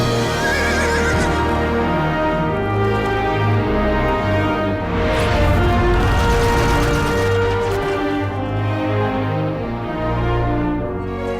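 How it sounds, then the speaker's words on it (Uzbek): Horse neighing and clip-clopping hooves in an animated European cartoon, loud and sustained across the whole stretch with no talking. "Bu axir mening otim."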